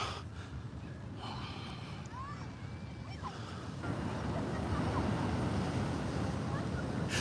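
Rough ocean water and wind buffet the microphone outdoors, a continuous rumbling roar that grows louder and heavier in the second half, with a few faint higher sounds over it.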